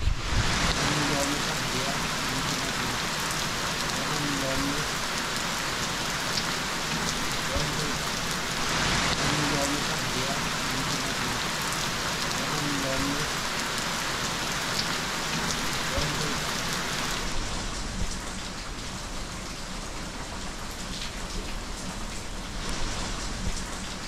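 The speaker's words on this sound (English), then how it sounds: "But it's really pouring now, so I might have to stop anyway for a while." Heavy rain pours steadily over a golf course at Royal Hua Hin, a dense, constant hiss of drops on the ground and surfaces all around that stays loud the whole time.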